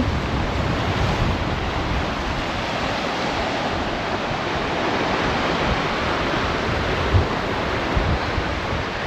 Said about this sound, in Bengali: আর সামনে এই যে বিশাল সমুদ্র।